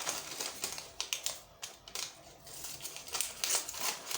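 Scissors cut fabric for a wrap crop top with a series of close, crisp snips and slicing strokes in an irregular rhythm. The sound is quiet, and no one speaks.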